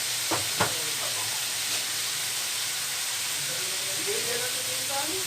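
Carrots, peas and capsicum stir-frying in a pan, a steady close sizzle with a few soft clinks of the utensil near the start and quiet background voices.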